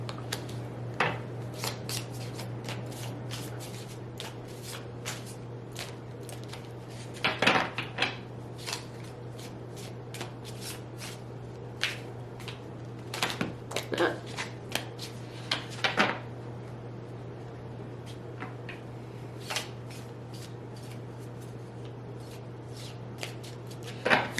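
Tarot cards shuffled by hand in repeated crisp riffling bursts and soft slaps, close and fairly quiet over a steady low hum, with a few louder flurries spaced through the stretch.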